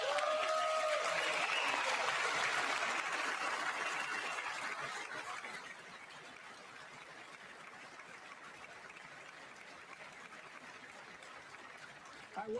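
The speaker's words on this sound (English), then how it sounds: "I wasn't sure if anybody even on this side was going to applaud for that." Sustained applause from a chamber audience at a presidential State of the Union address, loud and dense at first, then thinning and fading into a quieter murmur over the last several seconds.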